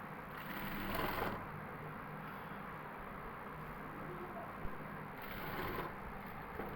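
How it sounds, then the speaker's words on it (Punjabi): A sewing machine runs steadily, stitching a square neckline on a garment, with a continuous mechanical whir that swells briefly near the start and end. "ਇਹ ਆਪਾਂ ਵੱਡੇ ਵਖੇ ਨਾਲ ਸਲਾਈ ਲਾ ਲਈ"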